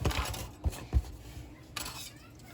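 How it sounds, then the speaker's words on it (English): Dry ingredients with turmeric or curry powder mixed in a bowl, a few clinks and scrapes of a utensil against the dish, close and fairly quiet, with no talking. "Then I'm gonna mix all the dry ingredients together."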